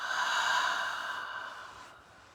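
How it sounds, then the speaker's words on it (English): A person in a guided meditation takes a slow, deep breath, a steady airy breath sound that fades gradually over a couple of seconds, close and alone with no talk. "One more time. Inhale and exhale."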